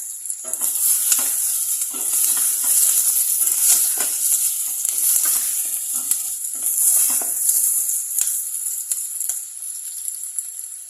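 Continuous sizzling and crackling of potatoes frying in a pan for potato soup, with occasional stirring scrapes, steady and close throughout.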